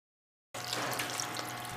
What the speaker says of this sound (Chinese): 然后倒入清水洗净